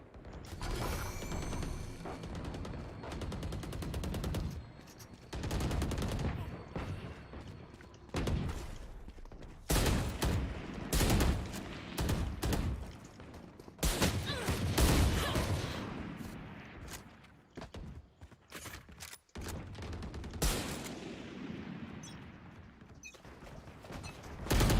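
Gunfire in a professional Valorant Champions match between TL and NAVI, heard as repeated bursts of shots and impacts with short gaps between them, moderately loud.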